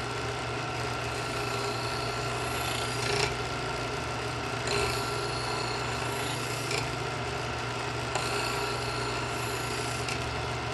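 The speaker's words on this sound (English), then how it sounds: "you want to move to the ceramic slot to finish the edge and polish the edge" A knife edge is drawn through the ceramic slot of an Edgeware adjustable-angle sharpener, producing a continuous rasping scrape with a few faint stroke accents, close and alone.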